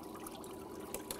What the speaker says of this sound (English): As the tank is filling with water